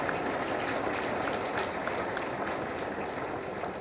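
Steady, dense applause from a banquet audience at the Hampton Roads Crime Line awards dinner, a continuous wash of clapping filling the room without a break.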